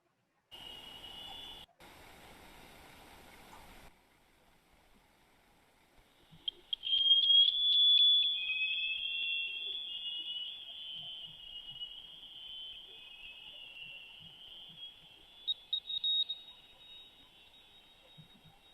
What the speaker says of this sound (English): High power mid-frequency active sonar can inflict tissue damage and hearing loss on cetaceans, turtles, and fish